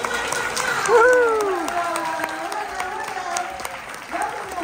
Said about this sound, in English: How about a nice round of applause for the host of today's show, Alex Ross.